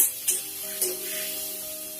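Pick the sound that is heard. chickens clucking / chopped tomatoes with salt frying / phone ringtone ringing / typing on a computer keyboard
chopped tomatoes with salt frying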